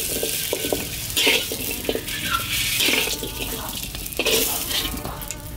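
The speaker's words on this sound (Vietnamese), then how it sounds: "Mình sẽ xào cho khoai nó hơi vàng xém một chút xíu, mình sẽ vớt ra." Potatoes stir-fry in hot oil in a pan for a Vietnamese crab curry, giving a steady close sizzle with occasional clinks and scrapes of stirring.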